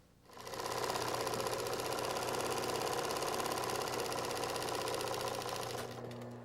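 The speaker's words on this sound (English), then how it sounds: "We are going to start at the heel of the foot and sew the whole way around the outside to the toe" A sewing machine runs steadily, stitching around the foot of a handmade teddy bear leg from heel to toe, a fast even whirring hum starting up after a moment and continuing loud and close until it slows at the end.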